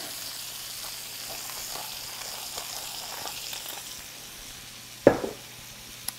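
Onions and bacon frying in a pan, a soft steady sizzle close by with light stirring ticks, then a sudden sharp clack of a utensil near the end; no talking.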